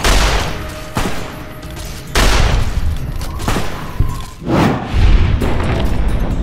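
Gunfire in Fallout: New Vegas as fiends are shot, loud booming shots in uneven bursts, several heavy blasts spaced a second or so apart, close and dominant with no talk.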